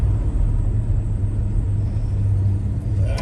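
A 1969 Chevrolet Chevelle Malibu cruises along with a steady, continuous low engine rumble and road drone, loud and close, with no talking.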